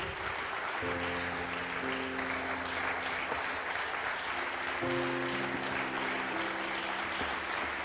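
Sustained applause from a church congregation fills the space, with keyboard chords ringing out underneath.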